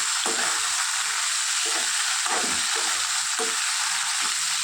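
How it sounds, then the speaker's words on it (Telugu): Ivy gourd pieces sizzle steadily in hot oil, a constant close hiss broken by occasional scraping stirs of a spoon. "బాగా వేయించుకోవాలండి"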